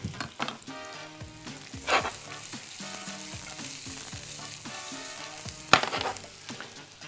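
Julienned carrot strips hit onions frying in a pan, giving a continuous sizzle broken by a few louder clattering stirs, with a tonal hum running underneath.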